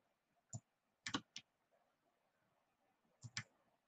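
Four quiet, sharp mouse clicks while working on a computer: a single click, then a quick group of three, then two more close together near the end, with near-silence in between.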